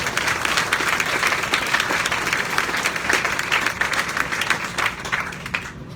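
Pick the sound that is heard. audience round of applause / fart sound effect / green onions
audience round of applause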